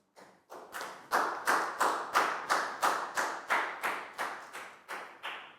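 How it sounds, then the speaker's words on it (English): Students in a Year 4 math classroom applaud a classmate, a dozen or so quick bursts of clapping in steady rhythm, close and fairly loud, rising after a short start and continuing evenly to the end. "Big round of applause for Net"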